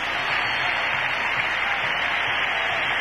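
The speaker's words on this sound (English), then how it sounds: "and listen to the crowd" Stadium crowd at a 1980 New Orleans vs Chicago football game roaring after a Bears touchdown, a loud, dense, sustained wash of cheering and applause with no break.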